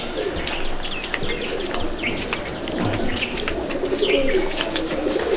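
Pigeons in a loft coo steadily with scattered chirps and occasional wing flaps, a continuous close flock sound with no talk.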